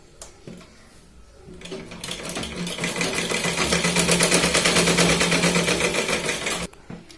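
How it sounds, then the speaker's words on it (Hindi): A sewing machine double-stitches a 38-inch blouse. Its motor whirs up into a fast, steady, rattling run of stitches for several seconds, loud and close, then stops abruptly. "इथे आपण याला डबल शिलाईन घेऊया।"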